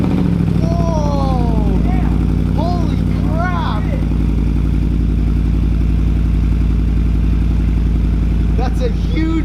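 A 2013 Ford Raptor's engine idles loudly through a BAmuffler Dirty Deeds aftermarket exhaust, a steady deep rumble running throughout, while people talk over it.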